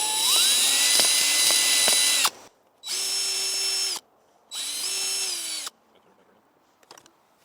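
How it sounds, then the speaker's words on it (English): A power drill whines in three bursts of a couple of seconds each, drilling holes in a pumpkin, revving up and winding down with short gaps, then a few faint clicks. "we'll just go ahead and drill a couple holes right on around the core"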